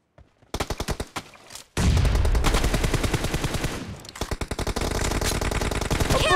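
Rapid automatic gunfire from a Scorpion submachine gun in a team deathmatch video game, several short bursts followed by long sustained loud firing, close and dominant with no talk.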